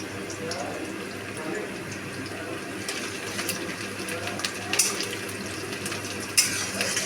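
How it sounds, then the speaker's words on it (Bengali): Onions fry in a pan for a yogurt chicken curry, giving a soft, steady sizzle with occasional stirring scrapes and clinks, fairly quiet and close. "ভালো করে পেঁয়াজ ভাজা হয়ে গেছে।"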